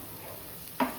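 Spice masala with extra garlic frying in a pan for fish curry, a quiet steady sizzle broken near the end by one louder scrape or stir against the pan, no talk.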